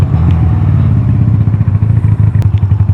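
A Honda Rebel 250 motorcycle engine runs loud and close, its low steady throttle note rising and dipping as the rider blips to rev match through a gear shift, with faint mechanical clatter over the engine.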